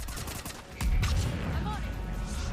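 Rapid gunfire crackles in the Mass Effect 3 video game during a firefight, a fast burst of shots over background battle noise.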